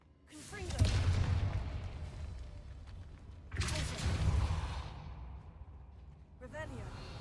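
Confringo, a blasting spell in Hogwarts Legacy, goes off with two loud booming explosions a few seconds apart, each with a rumbling, crackling decay, followed by a fainter third burst at the end.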